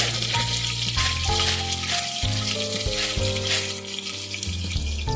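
Cumin and curry leaves crackle and sizzle in hot oil in a pan, a dense continuous frying hiss with some clattering and pops, loud and close.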